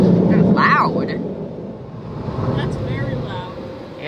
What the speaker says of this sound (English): It's got these Mark 7 dryers. High power. Yeah. They're loud.